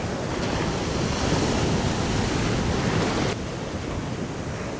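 Ocean surf rolls and washes onto a beach where someone is surf fishing for striped bass, a loud continuous roar with wind buffeting the microphone.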